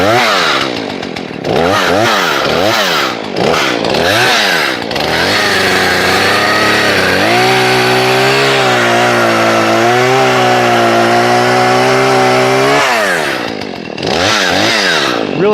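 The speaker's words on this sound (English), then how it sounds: "when you're ready to use the saw, you pull the brake handle back" A Husqvarna 38cc two-stroke X-Torq chainsaw with a 14-inch bar runs loud and close, idling and then revving up to a sustained high-pitched whine before dropping back to idle.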